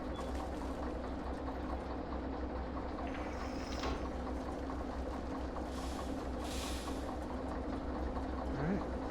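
Train rolling through the simulator game Derail Valley, a steady low rumble and drone of wheels and machinery running continuously, moderately loud, with faint hiss and brief higher squeals now and then.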